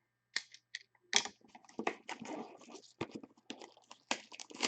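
Blade slicing through the packaging of a 2020 Panini National Treasures Collegiate Football card box, a close series of short scratchy cuts and tearing crackles in quick irregular bursts, with no talking.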